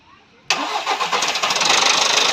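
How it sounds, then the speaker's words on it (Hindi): A Volkswagen Vento engine starts after repair: a sudden loud crank catches and settles into a heavy, pulsing idle close by. "जस्ट गाड़ी स्टार्ट किए हैं, थोड़ा सा साउंड हैवी है"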